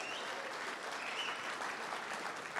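Steady audience applause for a former NCAA champion and NBA player being introduced at a social media marketing event, a dense continuous wash of clapping from a crowd without pause.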